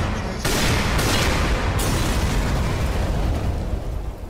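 Rapid gunfire bursts and explosive blasts from a Skibidi Toilet animation, loud and dense, with sharp onsets followed by a rumbling, sustained roar.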